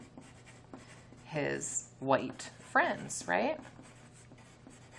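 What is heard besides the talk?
pencil writing on paper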